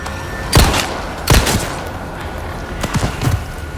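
Three or four gunshots ring out in Resident Evil 4 Remake, loud sharp cracks in two early bursts and then a cluster near the end, with a steady low game ambience between them.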